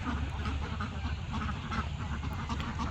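Ducks packed into an enclosed farm of about 240 birds quack faintly in a continuous distant chatter, without any clear individual call, over low background rumble.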